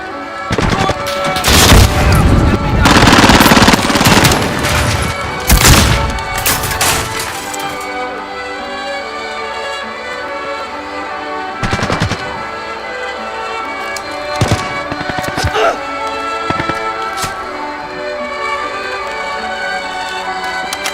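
Modern Warfare gunfire opens as a dense, loud volley of shots and blasts in the first several seconds, then thins to scattered single cracks over a steady game background.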